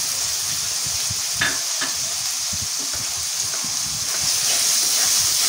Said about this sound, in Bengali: একটু চিংড়ি মাছটা দিয়ে দিলাম,